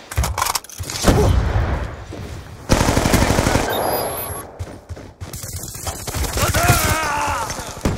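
Gunfire in Black Ops 2 multiplayer: rapid automatic bursts, close and loud, repeating in several volleys with brief pauses, mixed with thuds and game effects.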